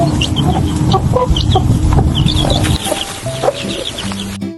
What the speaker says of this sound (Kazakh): Балапан қандай дыбыс шығарады?